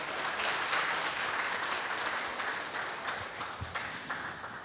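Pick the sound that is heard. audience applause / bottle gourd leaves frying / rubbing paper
audience applause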